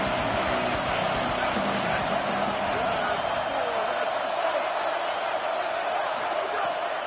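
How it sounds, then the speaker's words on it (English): A dense college football stadium crowd roars in a broad, steady wash of cheering, while a commentator's voice carries over it. "This crowd knows when to bring it."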